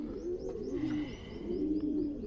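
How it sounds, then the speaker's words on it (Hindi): Flying pigeons coo softly in repeated low, rolling phrases, with faint higher chirps in the background and no speech. "दोस्तों ये उड़ान वाले कबूतर हैं"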